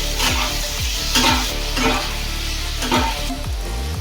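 Diced potatoes with turmeric and salt fry in hot oil in a kadai, giving a steady close sizzle broken by several scraping stirs of a spatula against the pan, with no talking.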